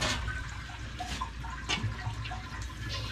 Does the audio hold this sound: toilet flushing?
yes